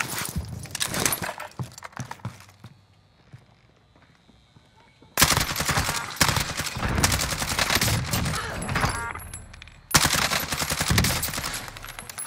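Rapid automatic gunfire in Call of Duty Warzone on Rebirth Island, loud dense bursts that stop for a quiet gap and then resume twice in long sustained volleys.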